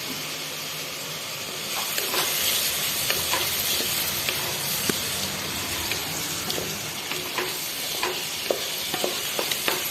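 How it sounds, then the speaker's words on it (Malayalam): Cinnamon and bay leaf fry in a pan of hot oil, giving a steady close sizzle with faint scraping stirs and small pops throughout, no voices. "നമ്മുടെ പട്ട, കറുവപ്പട്ട, ഇല ഇളക്കി കൊടുക്കുക."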